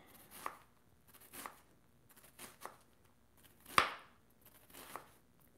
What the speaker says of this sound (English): We want this onion fine. We want fine onion. And I might chop it a little further.